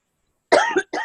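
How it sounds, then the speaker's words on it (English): A person recovering from a lingering illness coughs twice, close and loud, a harsh first cough followed by a shorter one with no talk around it. "I just can't seem to get rid of the cough either"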